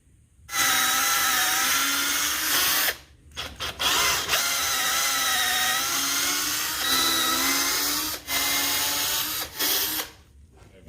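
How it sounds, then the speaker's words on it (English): Power drill pre-drilling holes for lag bolts in wood while building a sheep or goat stanchion, a loud close whine running in a long burst, then shorter bursts separated by brief stops. "We're gonna take our drill bit and pre-drill our holes for the lag bolts that go in here"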